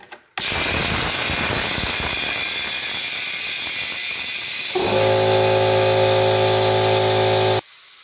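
An air compressor engine fires up with a loud mechanical clatter, then settles into a steady, droning hum with a sustained high whine as the tank fills, before cutting off abruptly near the end.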